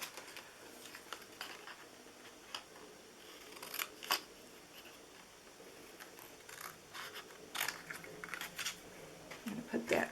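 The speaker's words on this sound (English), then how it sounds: "I just cut a square around it" Scissors snip through paper to cut a square for a homemade Christmas treat holder, a series of short crisp cuts at an uneven pace over quiet room noise, with a few louder snips near the end.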